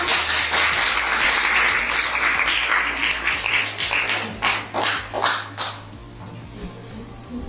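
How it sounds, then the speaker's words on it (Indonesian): Applause rises as the group 1 representative steps up in a classroom learning session, a dense wash of many hands clapping that swells and then breaks into scattered separate claps before fading. "Kita beri aplaus untuk"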